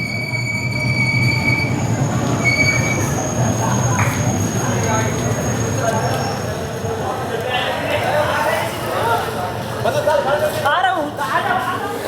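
Rajya Rani Express rolling slowly into Parbhani Junction, with a heavy rumble, wheel squeal and clanking carriages, while station sounds and voices mix in the background.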